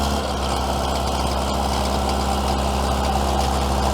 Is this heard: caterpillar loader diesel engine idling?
yes